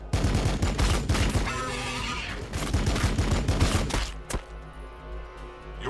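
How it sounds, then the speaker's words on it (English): Gunfire crackles in Warhammer 40,000: Battlesector. Rapid bursts and repeated shots come thick and loud for about four seconds, then thin out into scattered reports against a quieter background. "Laying down fire."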